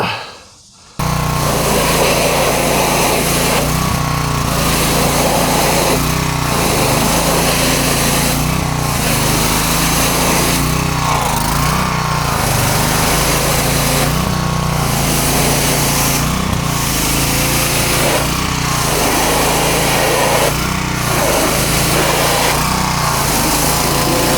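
A revived pressure washer's small engine starts after a brief silence and then runs loud and steady, with a buzzing drone and periodic rhythmic surges, heard close with no talking.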